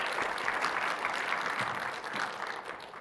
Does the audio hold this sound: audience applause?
yes